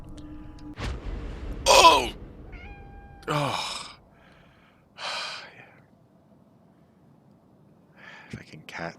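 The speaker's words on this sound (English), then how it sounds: "Fucking cat." A cat meows in the video game Conarium, a few short bright cries spaced apart amid gasps and groans from a player reacting nearby.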